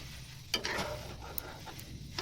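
Pumpkin curry stirred in a pot, a spoon scraping through the thick mixture in a few short strokes over a soft background hiss.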